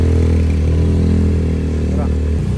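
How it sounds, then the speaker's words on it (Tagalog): A motorcycle engine runs loud and close, holding a steady, throbbing idle for the whole stretch with no pause or change in pace. "I-start ni Baki yung motor"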